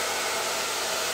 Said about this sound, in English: Using the Parlux Allion dryer, also available at Hairbrain Pro with the Magic Sense diffuser